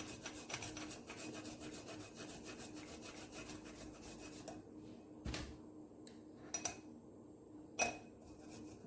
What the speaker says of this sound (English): grate my garlic in it. Grate garlic.